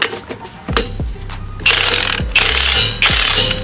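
A socket wrench ratchets in quick clicking bursts while loosening lug nuts during a tire change, with repeated loud rasping strokes and mechanical clatter close by.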